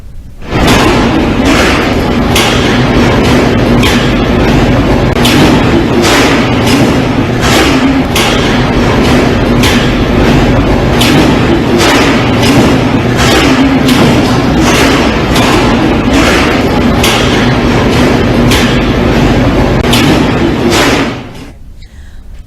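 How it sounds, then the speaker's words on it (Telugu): A metro train and station shaking during a magnitude 7.7 earthquake: a loud, sustained rumbling roar punctuated by many sharp rattling bangs and thuds, ending abruptly into near quiet. "మెట్రో స్టేషన్ లో ట్రైన్ ఊగిపోతున్న సందర్భాన్ని మనం ఇక్కడ చూస్తూ ఉన్నాం."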